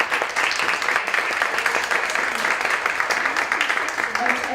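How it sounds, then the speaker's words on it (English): Sustained audience applause for a panel discussion, a thick wash of many hands clapping at a steady, fairly loud level throughout, with faint voices mixed in underneath. "So let's give a round of applause to this great panel."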